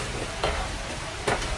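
Fried chicken is tipped into a hot pan of glaze and stirred, making a steady close sizzle with two brief louder scraping swishes.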